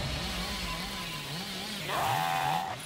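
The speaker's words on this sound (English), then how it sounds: "if you spam your chainsaw, you'll get it" Hillbilly's chainsaw from Dead by Daylight revs in a continuous low droning buzz, the pitch wavering up and down, then rising into a louder, higher whine near the end before cutting off.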